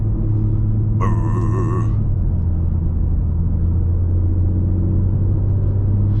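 A 2023 BMW M3 Competition xDrive engine drones steadily from inside the cabin while driving on a smooth road, a loud constant low rumble, with a brief higher whine layered over it for about a second early on.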